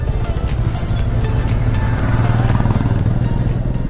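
A motorcycle engine idles and rumbles steadily up close as the bike is brought to a stop and parked near Coronation Bridge, with no talk over the continuous motor drone.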